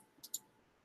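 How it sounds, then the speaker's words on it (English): Mouse clicking on design elements in Canva, two quick, faint clicks close together, otherwise near silence. "just by clicking on the different elements"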